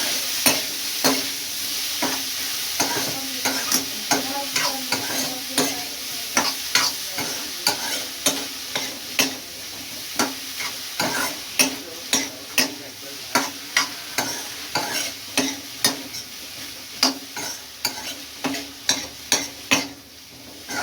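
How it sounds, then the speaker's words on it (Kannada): Sweet corn fries in butter with a continuous close sizzle, while a spoon scrapes the pan in a steady, rhythmic stroke about once a second throughout. "ಅದಕ್ಕೆ ಕಾರ್ನ್, ಬಟರಲ್ಲೇ ಸ್ವಲ್ಪ ಚೆನ್ನಾಗಿ ಫ್ರೈ ಆಗಬೇಕಿದು."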